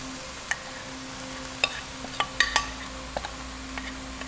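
A vegetarian char siu filling with mixed bell peppers stir-fried in a wok, with a soft sizzle under scattered sharp clinks and scrapes of the spatula against the metal, irregular and close.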